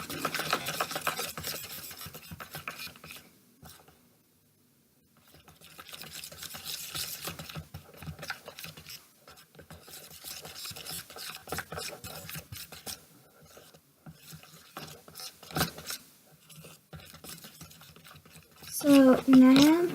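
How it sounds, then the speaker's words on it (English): Floam slime being mixed by hand with purple coloring, giving steady sticky rubbing and squishing rasps that come in bursts with a short pause, a voice speaking over parts, and a louder burst near the end. "Then you mix it."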